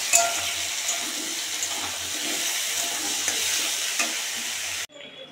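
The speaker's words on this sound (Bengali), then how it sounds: "আর এদিকে মাছটাও প্রায় ভাজা হয়ে গেল।" Fish fries in a pan with a dense, steady sizzle close by, broken by faint stirring scrapes, before cutting off abruptly near the end.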